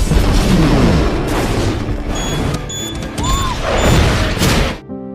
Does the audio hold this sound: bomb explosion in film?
yes